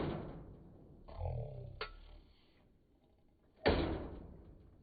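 Stamp mill stamper battery slowed down, giving a few heavy, widely spaced thuds and clanks with dull metallic impacts, the loudest hits near the end, alone without talk.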